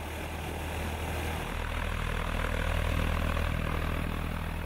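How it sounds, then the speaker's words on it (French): A propeller airplane departing from an aeroclub airfield at Versailles, a steady loud engine drone that builds slightly, with continuous broadband roar throughout and no voices. "le premier des 3 avions mobilisés est au départ."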